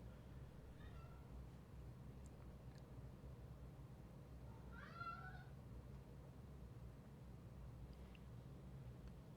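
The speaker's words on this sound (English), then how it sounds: "My cat sounds angry or distressed." Pet cat giving an angry or distressed meow: a faint short cry first, then a longer, louder wavering yowl midway, both over a quiet, constant room hum.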